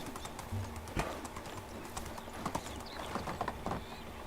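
A horse's hooves clip-clop steadily as it is ridden in the video game Medieval Dynasty, a quiet, regular rhythm of soft hoof strikes with a few sharper clops over a faint ambient background.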